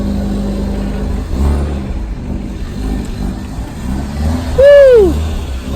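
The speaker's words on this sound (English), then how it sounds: "The exhaust is quiet now, but later we're gonna put a cap back in it so it'll be louder." A turbocharged Hyundai Veloster idles with a low, quiet exhaust rumble that rises briefly, while someone lets out a rising whoop near the end.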